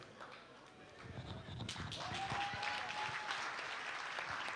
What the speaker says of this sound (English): No, you will clap.